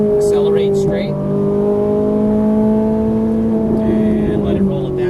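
A Ferrari 458 Italia engine pulls hard on the Exotics Racing track in Las Vegas, a loud steady rising tone heard from inside the car, with an instructor talking over it.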